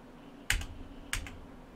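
Two crisp computer keyboard key presses, spaced about half a second apart, close and clear over a quiet background hum.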